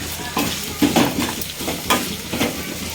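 Curry leaves hit hot oil for an Andhra-style horse gram dish, crackling in sharp bursts alongside stirring scrapes, close and loud, with no talk.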